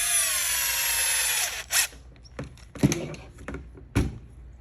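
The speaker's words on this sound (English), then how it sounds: "not before we finish drilling the holes" A power drill whirs steadily at high speed for over a second drilling holes in a Traxxas X-Maxx RC truck, then stops, followed by several knocks and thuds of tools and wood.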